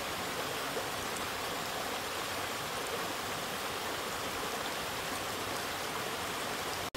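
Steady broadband rush of water pouring over a small weir below a clear lake in the Trettach valley near Oberstdorf, continuous and close, with no voices.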